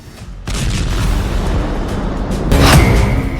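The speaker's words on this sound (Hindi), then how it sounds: "रूस ने फिर दागी मिसाइलें।" An explosion from a Russian missile strike on a Ukrainian city, a loud heavy boom with rumbling blast noise swelling and then surging again, with no talk over it.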